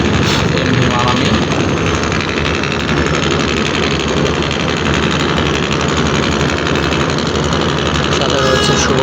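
Passenger launch engines rumble steadily at the Sadarghat river terminal beside the MV Manami, a fast Barisal launch, a dense mechanical drone filling the scene with crowd noise and talk mixed in.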